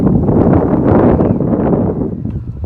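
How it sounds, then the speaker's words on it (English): Steady broadband wind buffeting a microphone outdoors, loud and continuous throughout with a low rumbling roar, easing slightly toward the end. "a little windy"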